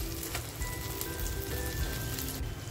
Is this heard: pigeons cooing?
no